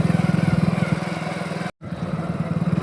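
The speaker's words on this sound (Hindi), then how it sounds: "तो अभी मैं बाइक चला रहा हूँ" A motorcycle ridden along a village road toward Ratangarh, its engine chugging steadily and loudly up close, with a brief cut-out in the middle before the running drone returns.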